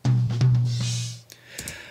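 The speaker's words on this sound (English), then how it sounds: "We have a couple of toms, the first one sounds like this." Several tom drum hits with a deep, resonant low ring, loud and close, the first ones ringing out before softer, quicker hits near the end.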